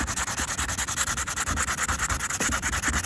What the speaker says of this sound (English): I'm just gonna sand this to smooth it out.